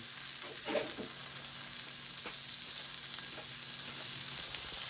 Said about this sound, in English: now all we got to do is just throw it in the pan